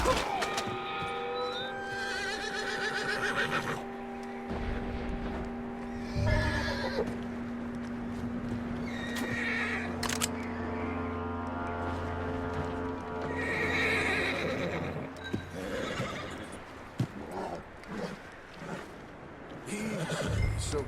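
In Red Dead Redemption 2, a horse whinnies and snorts while its hooves clop in loose, uneven steps. The sounds are close and clear over a soft tonal music bed.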